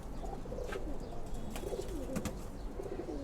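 Young Lalpatti pigeon chicks cooing softly at close range in low, wavering repeated calls over a faint hiss, with no voices.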